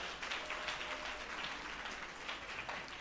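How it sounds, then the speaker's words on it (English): A round of applause from the audience at a Women of Faith Summit, steady and dense like rain, a continuous even wash of many hands clapping at moderate distance throughout. "I want you to give yourself a round of applause for being here"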